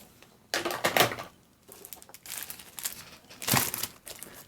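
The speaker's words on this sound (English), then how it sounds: "now we put the stickers on" Stickers being peeled and pressed onto handmade watercolor cards, heard as close, crinkly bursts of rustling paper and backing that come in a few irregular clusters separated by quiet pauses.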